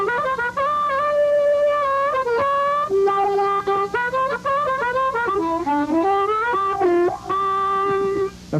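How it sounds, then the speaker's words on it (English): Harmonica blues in cross harp style, accenting draw notes, with bent, wailing and warbling notes sliding in pitch through quick rhythmic phrases, played up close with no voices. "Now, cross harp is the other style."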